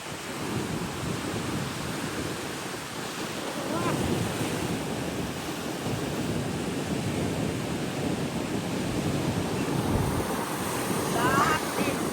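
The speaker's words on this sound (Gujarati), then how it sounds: "દરિયાની કિનારે મોજા તો બહુ છે" Heavy sea waves crash and roar continuously against a rocky shore by a seaside temple cave, with wind buffeting the microphone and brief surges of louder breaking surf.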